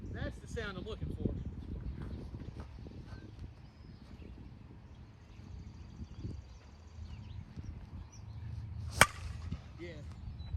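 Sharp, bright crack of a 2021 Demarini Young Guns USSSA youth baseball bat striking a ball, a single loud hit near the end, after stretches of talk and background practice noise.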